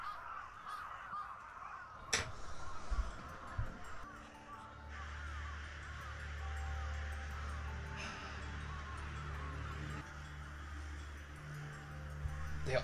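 Several anime crows from Kizumonogatari caw at intervals over a low background hum, with a sharp click and a few scattered bird calls in between.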